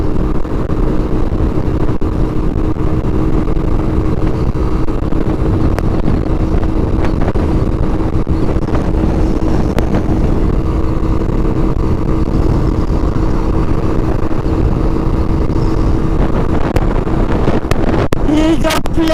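Strong outdoor wind blows straight into the microphone head-on, a constant, loud, rough buffeting roar that smothers everything else from start to finish.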